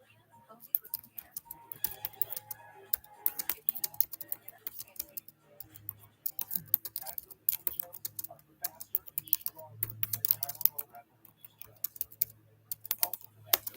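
Typing on a computer keyboard in irregular bursts of crisp, close key clicks with short pauses, while someone talks quietly underneath.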